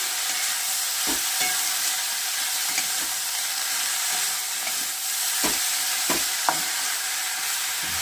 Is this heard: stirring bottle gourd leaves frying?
yes